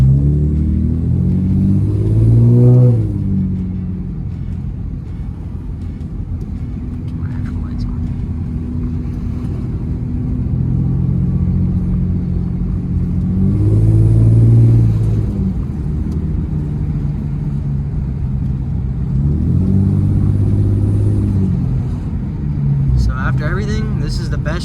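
A car with a swapped JDM Nissan VQ35DE V6 engine drives on a test run, its steady engine rumble and drone rising and falling through gentle accelerations, close and continuous throughout.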